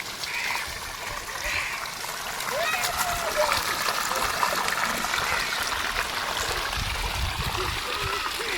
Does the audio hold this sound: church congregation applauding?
no